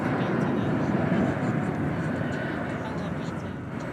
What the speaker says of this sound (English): Here comes a Delta flight.